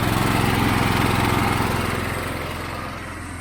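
Small gas engine of a pressure washer running at throttle, a steady loud droning hum that holds for about two seconds and then eases slightly in level.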